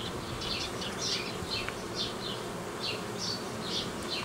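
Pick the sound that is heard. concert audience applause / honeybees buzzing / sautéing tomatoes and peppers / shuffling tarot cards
honeybees buzzing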